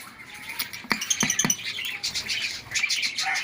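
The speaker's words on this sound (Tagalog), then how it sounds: "ito po ang aking paboritong ibon" A pet bird gives short, bright chirps with a few scratchy clicks and soft flutters, close by and fairly quiet, with no talking.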